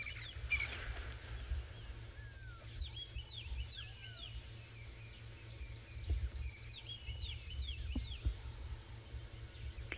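Several bird species call in the wild on an African safari: scattered chirps, short whistled notes and trills, some near and some distant, over a low steady rumble, with a few faint thuds and no talking.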